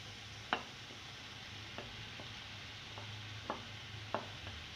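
Boiled macaroni is stirred into softened cooked vegetables in a pan for chicken macaroni, with soft scraping spoon strokes and occasional sharp clicks against the pot over a faint steady sizzle.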